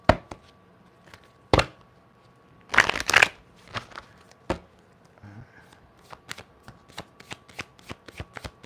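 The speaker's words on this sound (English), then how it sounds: "let's get a quick shuffle" African Tarot cards being shuffled up close, a burst of riffling flutters followed by scattered sharp snaps and taps of cards settling, with a short softer rustle in between.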